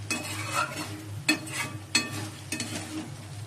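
A spoon scrapes and taps through chicken curry in a pan, a few distinct knocks over a low steady sizzle, with no talking.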